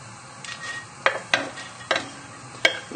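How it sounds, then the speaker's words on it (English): Onions and garlic going into hot oil in a pan for beer braised pork, a soft low sizzle broken by four or five sharp metallic clinks of a utensil against the pan, close and without talk. "Then we're just going to add in the onions and the garlic."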